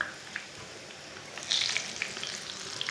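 Eggplant slices fry in a hot pan with a steady, moderate sizzle, swelling a little louder midway with scattered pops and crackles, no voices.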